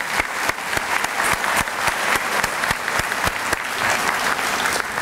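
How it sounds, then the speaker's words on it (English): Warm applause from an audience at a public schools evening celebration, a continuous clatter of hands punctuated by a few sharp, distinct claps nearby. "So if we can give them a nice round of applause"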